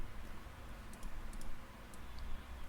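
Text being typed on a computer keyboard, faint light key clicks tapping in a loose irregular rhythm over a steady background hiss.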